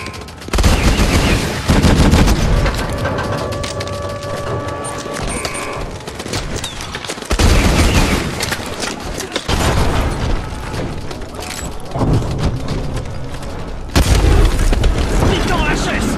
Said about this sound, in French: Décolle le titan avec le lance-roquette!